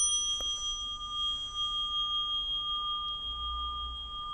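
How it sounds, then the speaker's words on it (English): A small Tibetan singing bell rings with a soft strike near the start, then a clear, steady tone with high overtones that sustains evenly for several seconds, close and alone. "This is actually a Tibetan singing bell or something."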